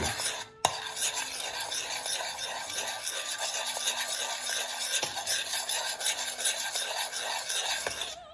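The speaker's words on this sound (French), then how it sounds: "Je les dépose dans mon coulis chaud et je mélange bien." A utensil scrapes and swirls steadily through hot strawberry coulis as gelatine is mixed in, a continuous close rubbing sound with a sharp knock near the start and faint taps now and then.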